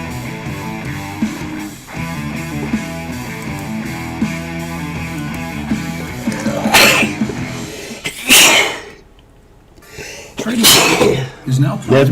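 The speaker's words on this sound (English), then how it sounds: "I've been sneezing like it all night" A person sneezes several times, sharp loud bursts near the end, following a stretch of music and a voice talking.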